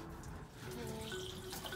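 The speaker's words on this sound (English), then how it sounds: "shower time." Shower water runs steadily inside a stepvan converted for van life, a continuous close hiss of spray with faint tonal ringing, no talk.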